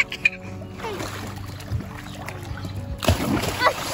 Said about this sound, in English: Your brother's splashing everybody.